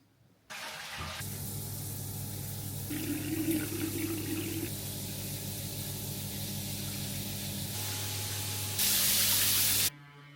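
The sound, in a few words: shower water running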